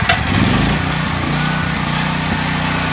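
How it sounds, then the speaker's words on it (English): A small pull-start generator engine, just restarted, runs at a steady, loud droning idle with a rough, even rumble throughout. "The generator is now running."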